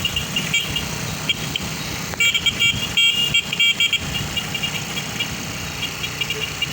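A motorcycle with a sidecar idles with a steady low engine rumble. Short horn toots and a bright tonal whine cut in partway through, with faint voices in the background.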